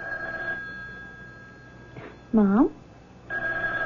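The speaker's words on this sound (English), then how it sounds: "Why don't you answer the phone?" An old-fashioned telephone bell rings in bursts during a radio drama, loud and close, with a voice speaking between the rings.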